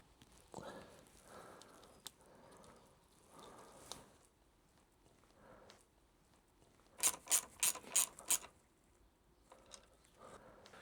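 Small nut tightened at the base of a brake lever on a KTM motorcycle, a quick burst of five or six sharp ratcheting clicks after some scattered handling and scraping noises, close and fairly loud.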